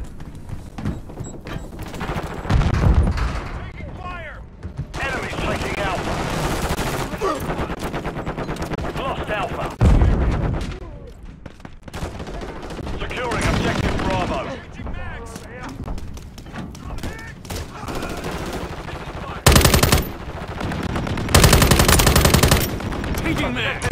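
Rapid automatic gunfire and bursts of shots in Call of Duty: Modern Warfare 3 multiplayer, loud and continuous across the whole stretch, with heavy thumping blasts and voices calling out over the shooting.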